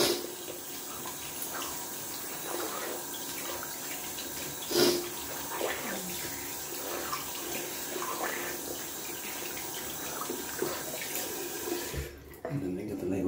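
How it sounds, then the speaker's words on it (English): Tap water running steadily into a bathroom sink during rinsing, a continuous close hiss with a brief splash near the middle, cutting off near the end. "just gonna rinse off the sink a little bit down here"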